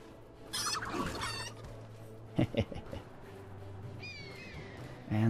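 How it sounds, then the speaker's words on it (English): Chickens cluck in the fantasy strategy game Age of Wonders 3, a few short bursts spread across the clip over steady game ambience, with a louder clucking flurry near the end. "Oh, Ignatius has a chicken."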